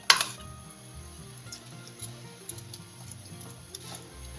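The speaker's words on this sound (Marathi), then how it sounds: "पहा इकडे आपलं दूध सुद्धा उकळायला लागलं." Milk for carrot kheer coming to a boil in a pot, giving a faint, steady bubbling sizzle with soft irregular pops, quiet and close, with no voices.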